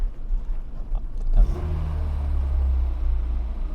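Cold Renault 25 carburettor engine catching after a cranking start, then settling into a steady, loud low rumbling idle close by, with no talk.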